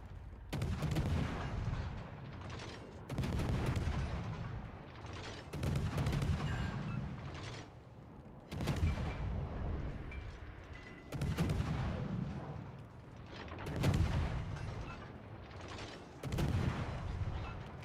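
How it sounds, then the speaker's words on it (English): Warship guns in World of Warships: Legends fire in repeated heavy salvos, each a loud booming blast with a rumbling tail, recurring roughly every two to three seconds without any talk. "Concentrate fire on the enemy warship."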